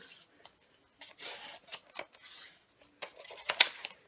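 A ball folder rubs along folded paper for a journal window pouch, making short dry scraping and swishing strokes in quick irregular bursts, close and fairly quiet.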